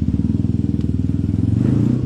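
A motorcycle engine cranks repeatedly without catching, a rapid rhythmic chugging pulse that runs steadily for about two seconds, close and loud, during heavy rain conditions.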